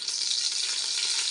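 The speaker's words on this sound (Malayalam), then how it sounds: "ഞാനിവിടെ സൺഫ്ലവർ ഓയിലാണ് ഒഴിച്ച് കൊടുത്തിരിക്കുന്നത്." Sunflower oil sizzles and crackles steadily in a hot pan, a close, even hiss with no voices.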